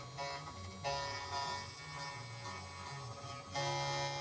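A CNC machine milling an aluminum motorbike part with a 6mm three-flute bit at 0.5mm depth, producing a steady, close electric whine with shifting tonal steps as the cut changes direction.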